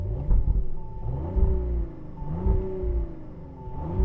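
A 2022 Audi RS5 engine revs up and settles several times in short bursts, held below 4,000 RPM, a deep rumbling whine close by.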